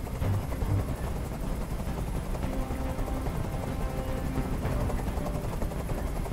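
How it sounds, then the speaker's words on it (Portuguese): A helicopter hovering over a hostage standoff in the video game Detroit: Become Human sets up a steady, close rotor chop and engine drone that holds throughout. "Eu não aguento mais esse barulho! Esse helicóptero tem que sair daqui agora!"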